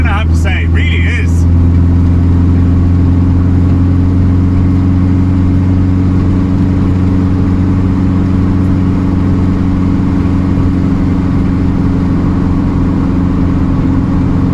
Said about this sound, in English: It's a lovely engine, I have to say, it really is.